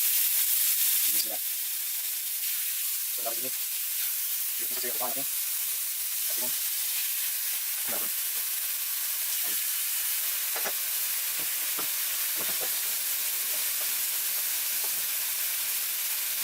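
Chicken thighs sizzle steadily in a hot pan, a dense, close hiss that runs throughout, broken by occasional clinks and scrapes of a utensil.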